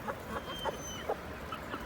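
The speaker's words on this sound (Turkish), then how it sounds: "Burada bir tane Japon tavuk var." Chickens in a coop holding Indonesian, Thai and Japanese breeds give soft, scattered clucks over a steady background hiss, faint and fairly distant.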